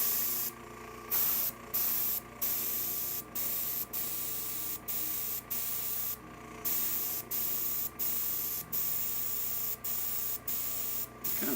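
Airbrush spraying paint onto HO scale model buildings in short repeated bursts of airy hiss, each lasting about a second, separated by brief pauses, close and steady over a faint background hum.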